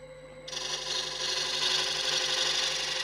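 A tiny spindle gouge cuts into a wooden box spinning on a lathe, a hiss that begins abruptly after a brief hum and then holds as a steady, close, rasping whir.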